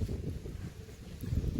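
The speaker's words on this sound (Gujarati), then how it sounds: "પવન વરસાદ હંગત પવન બહુ છે ગાઈસ" Strong wind during several days of continuous rain over waterlogged farm fields, a constant low, buffeting roar that batters the microphone without letting up and has no voices.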